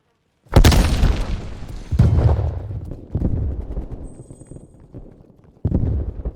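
Frag grenade blasts and gunfire in a first-person shooter video game: several loud, booming bursts come close together, each fading into rumble, with a final blast after a short lull.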